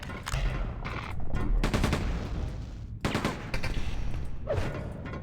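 Gunfire from Quake II 64 comes in loud rapid bursts separated by short pauses, a run of close machine-gun fire with sharp repeated shots.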